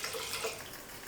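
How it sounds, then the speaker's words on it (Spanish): A short splash of water poured into blended fruit for a Michoacana-style agua fresca, a brief bright trickling pour heard close and alone. "Voy a agregarle aquí un chorrito de agua."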